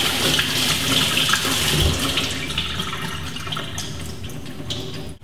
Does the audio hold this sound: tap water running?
yes